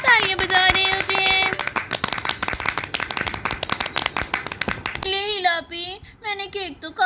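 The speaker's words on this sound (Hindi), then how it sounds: "और फिर सभी लोग यहाँ पर तालियां बजा रहे होते हैं" People clapping together at a child's birthday celebration, a dense burst of quick handclaps for several seconds mixed with singing and children's voices, then excited talking as the clapping trails off.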